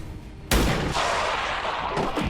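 A single loud, close sniper gunshot from XCOM Long War of the Chosen cracks out sharply, then booms and echoes away for nearly two seconds, with no voices over it.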